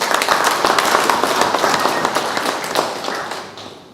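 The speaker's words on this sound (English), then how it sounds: "Let's clap hands ourselves" An audience at a schools association workshop claps together, a dense, lively round of applause nearby that holds steady and then tapers off toward the end.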